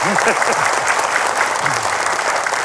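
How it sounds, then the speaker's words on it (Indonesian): Dense, loud applause from a crowd at an Islamic religious talk show, continuous clapping throughout, with a voice faintly audible underneath. "Wah, tepuk tangan katanya."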